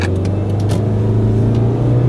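A 2012 Subaru XV with a 6-speed CVT automatic pulls away from a standstill, a steady loud engine drone rising gently, heard from inside the cabin with no talk.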